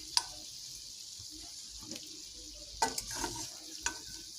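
Goat mutton slowly sautéing in its released oil for curry gives a soft, steady sizzle, with a few sharp utensil clicks and scrapes, fairly quiet and close.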